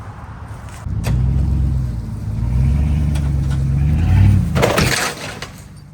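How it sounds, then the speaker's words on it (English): A Toyota RAV4's engine starts and runs as the car is moved around toward a driveway, rising and falling rumble with revving, close and fairly loud, then easing off near the end. "we're gonna move the RAV4 around, and we're gonna put it in the driveway"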